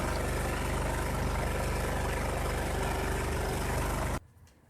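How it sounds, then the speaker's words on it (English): The Kohler 18 hp Command engine of a 2001 Cub Cadet 3184 lawn tractor runs at a steady, loud, close idle, then cuts out abruptly near the end, leaving faint background. "A good old-fashioned tune-up got that Kohler 18 horsepower command engine to running like new again"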